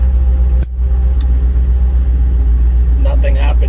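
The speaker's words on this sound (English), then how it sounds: "Let's shift it and listen to the engine." A loaded truck with a two-speed axle idles in first gear, a loud steady low diesel rumble with a brief click and a short voice near the end.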